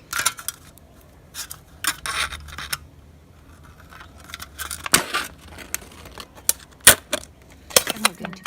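Scissors or snips trim the ridge off a cut plastic can for roof capping, producing irregular sharp snips and crinkly plastic rustles in short bursts, close and fairly quiet.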